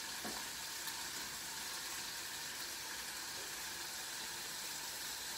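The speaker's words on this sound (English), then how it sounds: "I'm going to put in our noodles." Ramen noodles cooking in a pot, giving a steady, loud bubbling and hissing boil that runs without a break, with no talking.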